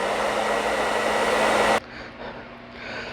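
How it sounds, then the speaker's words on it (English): A hair dryer blows with a loud, steady whoosh, then cuts off abruptly, leaving a quieter background hum. "And then I always follow up with the hair dryer"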